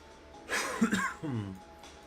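A few close coughs in quick succession, throat-clearing in quality, followed by a short low hum, over quiet background hiss.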